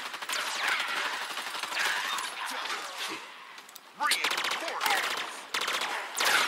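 A rifle fires in Halo Infinite in rapid automatic bursts, with loud, close rattling shots coming in several clusters separated by brief pauses, while voices come through at times.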